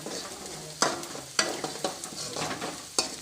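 Potato curry seasoned with turmeric frying in a pan, with a steady sizzle under repeated sharp scrapes and knocks of a spoon stirring, about five distinct strokes, close and alone.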